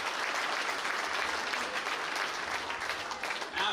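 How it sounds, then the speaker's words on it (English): A crowd at a professional boxing match applauds steadily throughout, a dense wash of clapping that stays loud and even from start to finish. "How about a round of applause for both of these guys here tonight"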